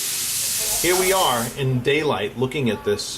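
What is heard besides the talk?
steam cleaning machine hissing in a jewelry shop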